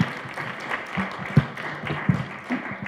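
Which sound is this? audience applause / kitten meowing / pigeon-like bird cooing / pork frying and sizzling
audience applause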